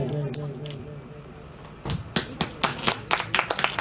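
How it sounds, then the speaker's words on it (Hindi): Clapping breaks out at a devotional religious gathering, starting sparse and quickly building into a brisk run of sharp, close hand claps after a quieter murmured stretch. "जोरदार तालियां होनी चाहिए।"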